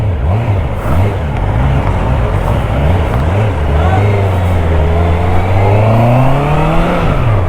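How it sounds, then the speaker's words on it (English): A 2022 Honda CBR650R inline-four motorcycle engine revs loudly and close, its pitch sweeping up and down in a steady rising and falling drone with no gaps. "But I can feel that engine is a nice little revvy thing."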